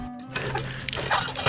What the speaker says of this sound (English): And here's the water pump.